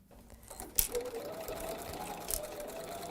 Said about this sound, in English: we'll take that to the sewing machine and we'll get that stitch put in